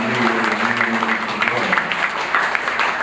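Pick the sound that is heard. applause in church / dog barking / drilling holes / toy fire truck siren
applause in church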